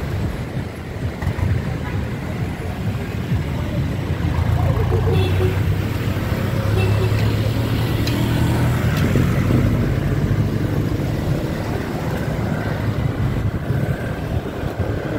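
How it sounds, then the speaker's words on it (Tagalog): Road traffic with cars passing near a PNR station in Guiginto, a continuous dense rumble of engines that swells in the middle, close and loud throughout. "Traffic."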